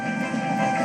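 A steam express train rattling over the points at a railway junction onto a branch line, a loud continuous rumbling clatter with no voices.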